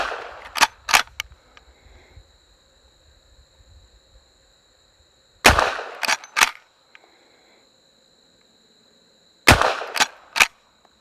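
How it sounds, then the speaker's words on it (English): Three loud, sharp rifle shots from an 1873 Winchester fired at 25 yards outdoors on a range, spaced several seconds apart, each followed by brief echo and the clack of the lever action cycling. "And here we go, 3 headshots from 25 yards."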